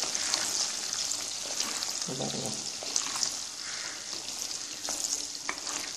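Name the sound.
seeded amla gooseberries frying in oil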